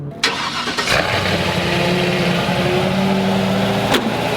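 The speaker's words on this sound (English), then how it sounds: "you don't expect an old truck to sound like that" An old truck with a Corvette engine rumbles at a steady, throaty idle through loud aftermarket mufflers at a drift event, with a couple of sharp clicks and knocks.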